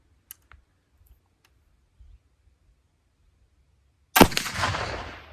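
A single loud black powder gunshot fired through a cotton bed sheet booms suddenly after a few faint clicks and low rumble, then its roar trails off slowly over more than a second.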